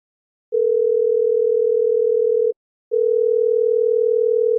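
Steady single-pitch telephone tone on a call to a friend, sounding in two long unbroken stretches with a short gap between, clear and alone with no voices.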